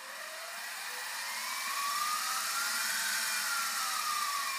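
A SIEG X2D belt-drive milling machine spins up and runs with a steady mid-pitched whir that slowly rises as it gets up to speed, a smooth continuous hum with no talking.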